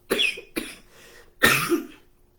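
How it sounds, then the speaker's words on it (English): A short series of close, raspy coughs: two quick hacks followed by a louder, longer one after a brief gap. "I got to get over that cough."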